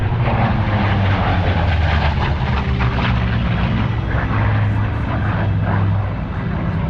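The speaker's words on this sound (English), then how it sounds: "The throatier sound of the big radial engine." An F4U Corsair with its big radial engine and large propeller roars past while landing at an airshow. The deep, throaty drone is loud and steady, holding close and dominant for the whole span with no talk over it.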